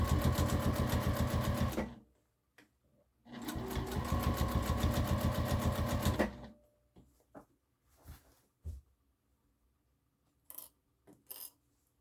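A sewing machine stitching down the waist tie straps on a harvesting apron, running in two steady bursts of rapid stitching followed by scattered light clicks and handling taps.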